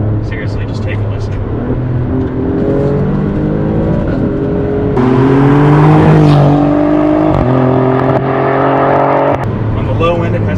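An Alfa Romeo Giulia Quadrifoglio V6 with its factory exhaust, a loud steady engine drone that climbs in pitch as it revs, eases back, then swells again, heard close.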